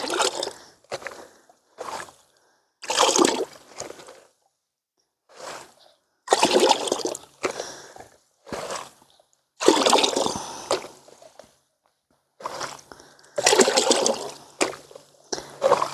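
Water pours onto garden plants in repeated short bursts, splashing and trickling close by with silent gaps between pours.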